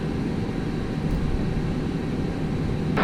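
A jet airliner's engines roar steadily at Taoyuan International Airport during its takeoff, a broad continuous rumble heard from inside the cabin, loud and unbroken with no voices.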